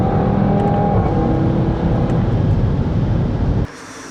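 An Audi TT engine drones loud and close with a sustained, steady roar under acceleration, then cuts abruptly to a quieter hum near the end.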